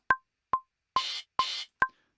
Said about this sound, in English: So then I also have an open hi-hat and a crash.